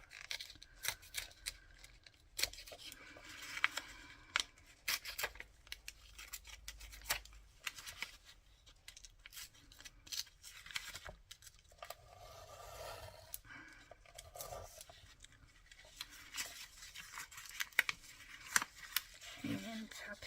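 Scissors snip through paper for a 3D tunnel craft element in irregular close clicks and short cuts, with occasional rustling and a voice speaking intermittently.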